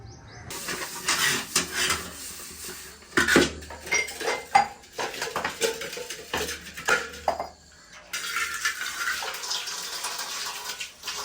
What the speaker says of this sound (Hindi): तो खाने वाले जो बर्तन थे ना वो हमने धो लिए